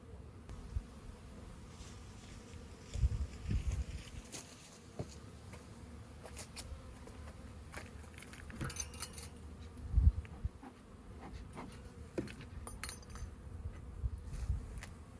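Honeybees buzzing around an opened hive during an inspection, a continuous low hum with individual bees droning past close by, plus occasional faint clicks and handling noises.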